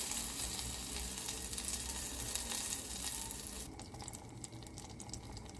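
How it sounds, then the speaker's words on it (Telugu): Butter melting on a gas stove in a pan for murukulu, a steady close crackling sizzle with a faint watery hiss throughout, with no talk. "చూసారా బటర్ ఎలా మెల్ట్ అయిపోతుందో గ్యాస్ మీద పెట్టగానే."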